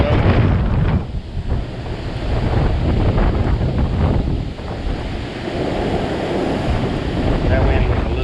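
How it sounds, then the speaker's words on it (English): Strong wind roars across the microphone at Center Hill Dam, a loud continuous rushing gust noise with water and surf-like wash beneath it, swelling and dipping briefly but never letting up. "That wind was a little too much."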